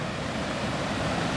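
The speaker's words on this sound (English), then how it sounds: "there's some big rapids in this river" A big river's rapids rush in a continuous loud roar of churning water, steady and unbroken throughout with no voices, heard close by from the riverbank in Sweden.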